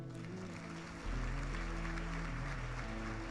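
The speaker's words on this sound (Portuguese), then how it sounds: "Você pode aplaudir o Senhor?" Faint, distant applause from a church congregation during a sermon: a soft, steady wash of many hands clapping, with a low hum rising under it partway through.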